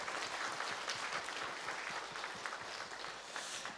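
A church congregation claps steadily for its choir, a dense, fairly distant wash of applause that holds evenly throughout.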